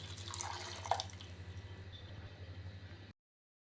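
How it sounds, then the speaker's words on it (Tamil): Water poured into a pot of okra tamarind curry (kulambu) on the stove, a faint splashing trickle with a small drip near the start over a steady low hum of a burner or fan. "உப்பு சேர்த்ததுக்கப்புறமா இப்போ டைரெக்டாக தண்ணி சேர்த்துக்கலாம்."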